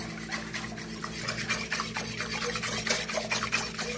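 A wire whisk beats oat-milk beignet batter in a bowl, a steady rapid scraping and rattling that runs unbroken for the whole stretch, close up and fairly loud with no voice over it.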